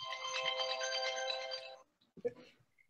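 A phone ringtone plays loud and steady for nearly two seconds, then cuts off into brief low talk.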